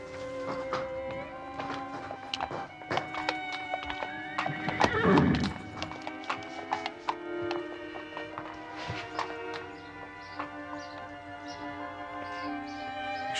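A horse whinnies loudly once while hooves clip-clop steadily on a hard surface, the footfalls continuing at walking pace around it, with people talking faintly in the background.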